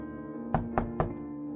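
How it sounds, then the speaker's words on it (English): Three evenly spaced knocks by a right hand on a front door of a house late at night, close and distinct against a quiet steady hum, with no speech. "Taking my right hand out of my pocket, I knocked 3 times,"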